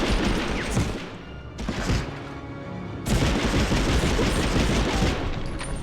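Machine gun fire in Medal of Honor on PS1, dense rattling bursts of rapid shots with booming impacts, pausing briefly before resuming louder and sustained.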